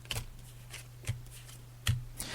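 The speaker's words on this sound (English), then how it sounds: "I'm just shuffling the cards now, Sarah" Tarot cards are shuffled by hand in a few separate bursts, crisp riffling flicks that stand out close and clear against a low steady hum, with no talk over them.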